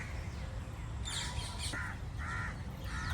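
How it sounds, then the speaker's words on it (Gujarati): Crows cawing repeatedly overhead, several harsh calls in quick succession over a steady outdoor background. "પક્ષીઓએ બહુ બધા જો પેલા ઉડે આવી રહ્યા"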